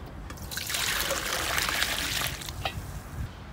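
Cooked vermicelli noodles and their cooking water pour steadily into a pot in one continuous, close splashing trickle that fades near the end.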